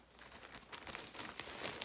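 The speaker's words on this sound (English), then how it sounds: "Sorry for the crinkling." Plastic packaging crinkles softly and continuously, faint rustling crackles close by with no talking.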